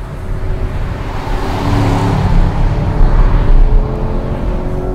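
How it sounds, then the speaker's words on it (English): A Chevrolet Camaro SS muscle car with a massive engine revs up, its deep rumbling exhaust note swelling louder and rising in pitch mid-clip before easing off slightly, heard up close from inside. "But with an engine note like this, you really want to wrestle it around."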